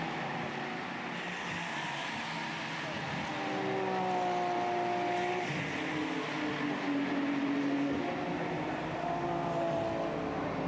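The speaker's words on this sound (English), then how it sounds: "Number 6 Porsche goes out of second curve" Porsche GT race car at Suzuka circuit during a qualifying session, an engine droning steadily, then swelling louder with rising and falling tonal whines as it drives past at some distance.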